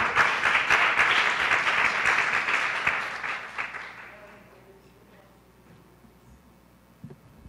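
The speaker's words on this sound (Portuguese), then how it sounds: "Aplauda ao Senhor com o seu melhor." Church congregation applauding during a service, a loud burst of many hands clapping that fades out over about four seconds, leaving quiet room tone with faint murmurs and a brief knock near the end.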